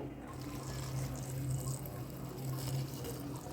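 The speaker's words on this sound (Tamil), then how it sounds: "இதில் சுடுதண்ணி ஆட் பண்ணிடலாம்." Hot water is poured onto soya chunks in a bowl, a steady, faint liquid rush running continuously for a few seconds.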